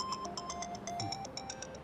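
A mobile phone rings with a repeating electronic ringtone melody, loud and close, playing on its own with steady pulsed beeps and no voices.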